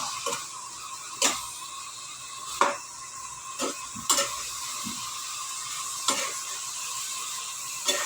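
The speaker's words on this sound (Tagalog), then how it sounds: "So, paghalo-haluin na natin" Vegetable adobo with leftover meat being stirred in a pan, giving soft scraping and clinking spoon strokes every second or two over a steady light sizzle, close and alone with no talk.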